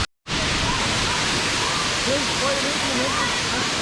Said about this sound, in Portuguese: O pessoal lá debaixo da cachoeira aproveitando, ó.